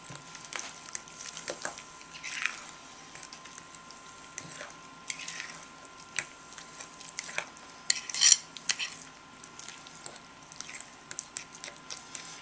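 A spoon scrapes and clinks against a bowl while hops yeast cake dough is mixed, giving soft irregular stirring, squishing and occasional sharper knocks up close.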